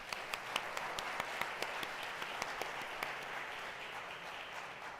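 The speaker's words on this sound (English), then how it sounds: "So let's give them all a round of applause" A small congregation at a Shabbat service claps for award recipients, giving a steady even patter of applause with a few sharper nearby claps, moderately quiet and without talk.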